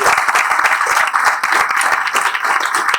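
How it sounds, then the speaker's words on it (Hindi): A crowd at a team event gives loud applause for a team leader, a dense, energetic burst of clapping with sharp individual claps sustained throughout. "जोरदार तालियां हो जाए"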